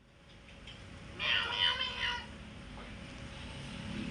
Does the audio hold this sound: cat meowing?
yes